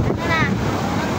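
Large sea waves roll in at a beach resort in Lemery, a brief rushing surf with wind noise on the microphone, loud and close.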